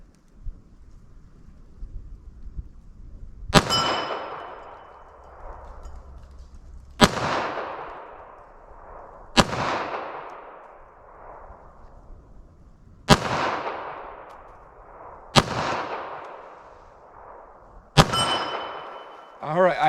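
A Smith & Wesson M&P 9mm pistol fired into ballistics gel with Winchester Ranger T-Series 147 gr rounds: six sharp, loud single shots spaced a few seconds apart, each with a long ringing decay outdoors.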